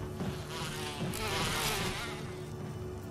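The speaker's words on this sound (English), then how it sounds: "More bees!" Swarming bees buzz in Resident Evil 1 Remastered, a steady dense drone that stays loud and continuous throughout.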